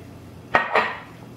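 Dry baking ingredients for a strawberry cake, including baking powder, tipped into a mixing bowl, giving a sharp close knock of the container on the bowl followed by a brief soft rush of powder, alone without talk.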